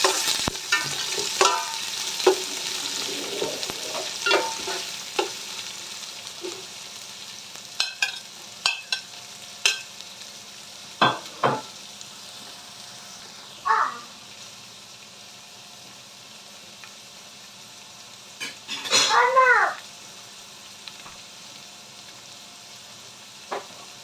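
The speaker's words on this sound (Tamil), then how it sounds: "வெங்காயம் வந்து வதங்கி கொண்டிருக்கு" Onions sautéing in a pot for chicken biryani, with intermittent sizzles, scrapes and stirring clatters over a quiet background and one louder burst near the end.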